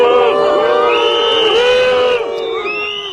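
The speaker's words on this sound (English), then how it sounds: "Factory workers whose jobs are under threat booed Mr. Macron." Loud crowd of factory workers whose jobs are under threat, booing and jeering at Macron with many overlapping voices in a sustained, close roar that drops slightly near the end.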